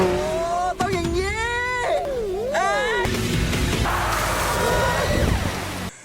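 A sports car speeding, its engine revving and whining up and down in pitch over a rushing roar, loud and near, with talk in the background throughout.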